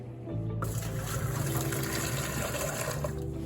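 Store-bought cider juice poured into a bucket for homebrewing, a steady gushing liquid stream that starts abruptly and runs continuously at moderate loudness, with no talking.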